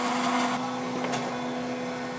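A kitchen blender runs a smoothie cycle with a steady, loud motor whine and hum, its tone shifting slightly as it continues without pause, with no talking.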